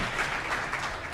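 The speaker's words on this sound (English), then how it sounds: "A good applause for Dr." A university audience claps for a speaker, dense, steady applause filling the hall for about a second.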